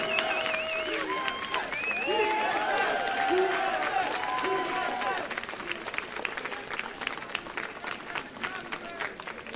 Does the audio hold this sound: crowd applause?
yes